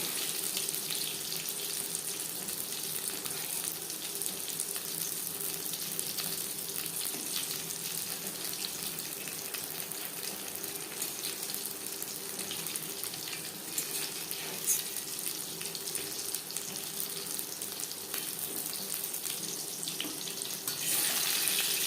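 Eggplant slices fry in hot oil in a pan, giving a steady, dense sizzle that holds at an even level throughout, with no talking.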